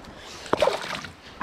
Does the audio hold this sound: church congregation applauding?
no